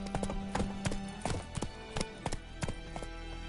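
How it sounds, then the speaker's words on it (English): Horse hooves clip-clop at a steady walking gait in the open-world game Witcher 3: Wild Hunt, close and moderately loud, with a faint whinny-like tone mixed in and no talk over it. "Whoa there, Roach"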